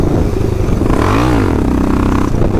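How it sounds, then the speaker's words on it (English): A KLR650 motorcycle engine revs loud and close in fourth gear during a wheelie attempt, with the pitch rising and then falling as the throttle is worked, mixed with steady riding and wind noise. "I'll do a fourth gear wheelie up here once I get off of this bend."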